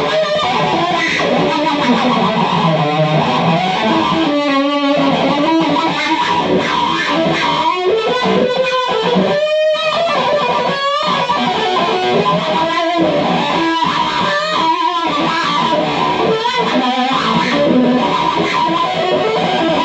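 A Dano-Wah DW-1 pedal on an electric guitar set to a heavily distorted 70s rock tone in F, with sweeping wah filtering over sustained chords and riffs that play loud and continuous.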